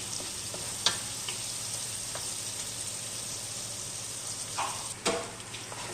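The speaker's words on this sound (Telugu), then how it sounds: "అంతా టమాటా ఉడికిపోయేంత వరకు బాగా వేపుకోవాలి" Tomatoes fry in a pan for a mango curry with boti, giving a steady close sizzle throughout, broken by a few light scrapes and taps of a spoon stirring.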